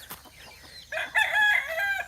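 On a farm in the morning, a rooster crows loudly and close by, a drawn-out call following a few soft clucks from chickens, with no voices.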